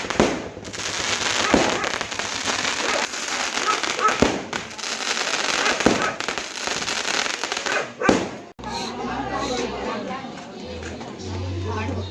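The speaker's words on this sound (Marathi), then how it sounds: "फटाके वाजायला लागले" Firecrackers crackle and burst nonstop during a late-night village palanquin procession for the goddess, a dense, loud barrage with sharp bangs, while a dog barks and people talk nearby.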